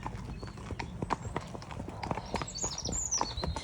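Two horses, Gary and Donny, hacking along a main road, their hooves clip-clopping on tarmac in a steady overlapping rhythm, close and moderately loud with faint background noise.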